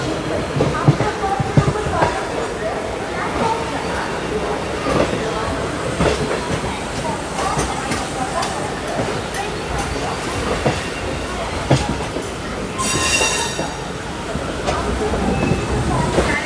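Moving train on rails, an express heading toward Delhi, gives a constant rumbling rattle with clickety-clack wheel beats and a brief high squeal, heard from inside the train.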